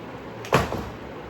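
A single brief scrape and thud of a faulty door opening nearby, over a quiet background hiss.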